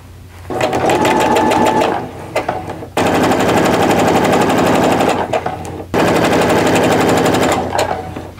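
A sewing machine runs a straight quarter inch seam in three long bursts of fast, even stitching, close and loud, with brief pauses between runs.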